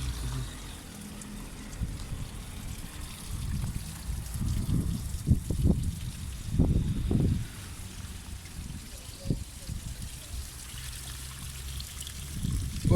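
Muddy water trickling and gushing out of a radiator being flushed, an uneven flowing stream with bursts of louder pouring, voices talking over it.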